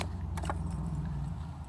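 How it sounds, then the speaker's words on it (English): Original keys for a Corvair jingle briefly in hand, a few quick metallic clinks close up over a low steady background hum. "These are the original keys that came with the car."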